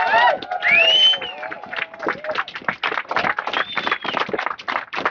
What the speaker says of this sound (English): So how about another round of applause for them?